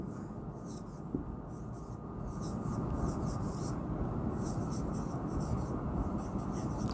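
Chalk or a marker scratches across a classroom board as a sentence is written, with a steady rubbing texture and short stroke bursts over a constant low room hum, no talking.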